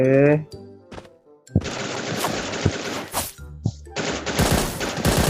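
Sustained machine gun fire from the shooter game Bullet Angel, loud rapid bursts and long rattling volleys with brief gaps between them, close and dense throughout.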